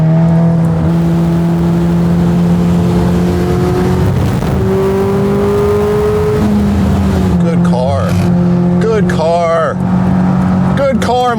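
A Corvette C8 ZR1 pulls hard in fourth gear, its engine note rising in steady harmonic sweeps, loud and close from inside the cabin, then shifting and climbing again with sharp revving bursts while a driver talks over it.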